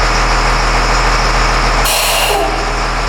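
A jump-started LMTV military truck idles nearby with a heavy, droning low rumble, and a sharp burst of air hisses over it for about half a second.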